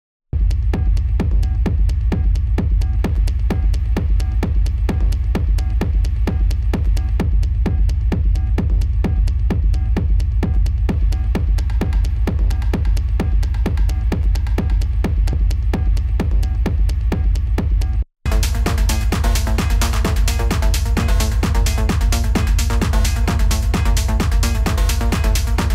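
Techno track with steady pounding kick and dense low-end throb, playing loud and continuous with a brief dropout near the end where the low-end mastering is switched, after which the sound turns brighter and fuller.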